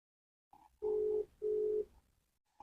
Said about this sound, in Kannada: ಕಾಲ್ ರಿಂಗ್ ಆಗ್ತಿದೆ